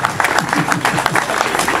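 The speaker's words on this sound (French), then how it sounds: "Je vous demande d'applaudir" A crowd at a French enduro championship at Villebret claps briefly in a quick, uneven burst, close and loud, with a voice mixed in.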